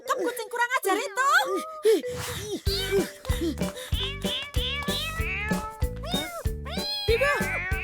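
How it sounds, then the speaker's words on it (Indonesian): A cartoon cat meows repeatedly in a series of bent, whining cries, loud and close, mixed with animated characters' voices and busy background music. "Tangkap kucing kurang ajar itu."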